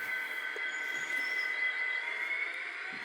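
A model railway Class 59 locomotive hauls sixteen wagons up a helix, giving a steady, whining motor hum over continuous rolling wheel noise. No one speaks.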